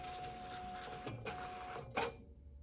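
A Zebra industrial printer runs its calibration, giving off a steady mechanical whir that stops abruptly twice, with a short burst of motor noise near the end before it falls quiet.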